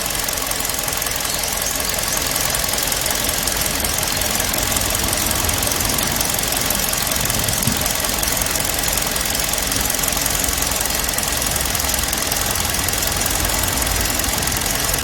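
A car engine runs steadily just after restart, with a spark plug fault and a wheel that follows the road surface, giving a dense, even mechanical rumble with a knocking texture throughout and no voices.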